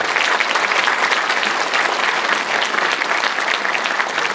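A crowd at a sports council ceremony in Sejong City, where the council flag is handed to the new president, applauds loudly and continuously, a thick, steady wash of clapping throughout.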